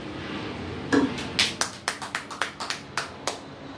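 Church congregation clapping in a Portuguese-language worship service: a short run of about a dozen sharp, fairly even hand claps, moderately faint and roomy, with no talk over them.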